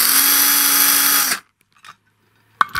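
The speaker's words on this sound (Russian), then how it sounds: "И аккуратненько вот здесь вот сверлим дырочку." A power drill bores a small hole through a pair of stacked metal antenna discs for a homemade Wi-Fi antenna, whining loudly and steadily for over a second before cutting off, followed by faint handling clicks.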